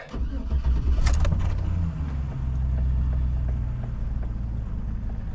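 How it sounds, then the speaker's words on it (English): Chevy Silverado 1500 'Cateye' truck engine cranking and catching, a brief starter burst followed by a steady, loud low idle rumble close by. "Let's fire up the truck."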